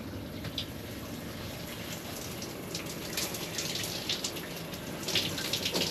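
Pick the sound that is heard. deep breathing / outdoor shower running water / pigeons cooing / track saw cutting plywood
outdoor shower running water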